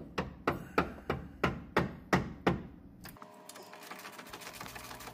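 Hammer strikes drive the screw end in to lock it while a car's CV boot and control arm are being replaced, about seven sharp, evenly spaced metallic taps followed by quieter clatter and shuffling.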